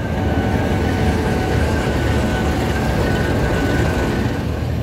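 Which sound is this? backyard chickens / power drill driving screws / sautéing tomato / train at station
train at station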